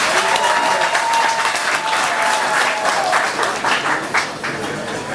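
An audience at a political party conference in Cameroon applauds continuously, a dense sustained clapping that fills the hall and fades slightly toward the end.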